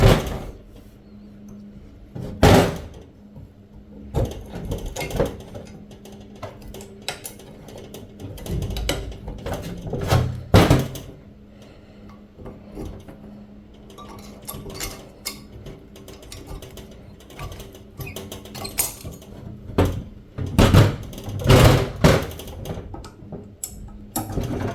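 Brake caliper parts being pried apart during a restoration: scattered close metallic clicks, scrapes and clunks come in irregular bursts over a quiet background.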